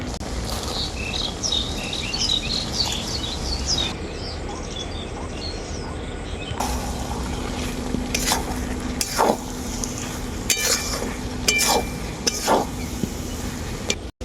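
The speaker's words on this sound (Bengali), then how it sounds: "সাবুটা দেওয়ার পর নাড়াচাড়া করে নিলাম ভালো করে" A spoon scrapes and stirs soaked, drained sago khichdi in a hot pan, a sizzling, rustling texture with sharper clinks later, while birds chirp in the background of a village cooking setting.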